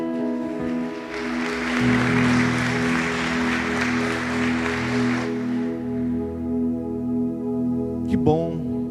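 A congregation at an Assembly of God church service in Registro, São Paulo, applauds loudly for about four seconds over sustained worship music, then the clapping fades and the music carries on alone.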